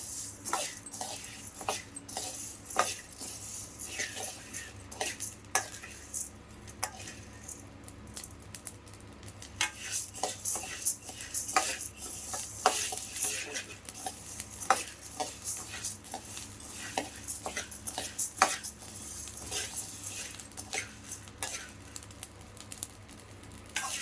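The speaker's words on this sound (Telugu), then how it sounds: "లైట్ బ్రౌన్ వచ్చేటట్టు వేయించుకోండి ఇవి అన్నీ కూడా" Spices for sambar powder dry-roasting in a pan to light brown, with continuous rapid scraping and clinking of a stirring spoon over a faint sizzle, steady and close throughout.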